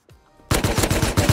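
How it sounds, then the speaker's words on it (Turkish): Rapid automatic gunfire from a Rust video game battle bursts in loud and close after a faint moment, repeating in a steady run of sharp shots with no talk over it. "Sıkıyorum."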